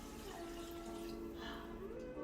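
Six cups of vegetable broth for butternut squash soup pour from a bowl into a pot, a steady continuous liquid rush with a brief splashy swell midway, close and moderately loud.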